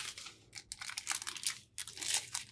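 Plastic protective film being peeled and torn off a newly built PC part, a burst of crinkly, crackling tearing that stops and restarts, close and fairly loud with no talking over it.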